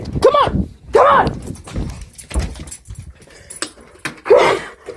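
Several dogs bark loudly and excitedly at close range in a house while people shout and call out over the commotion.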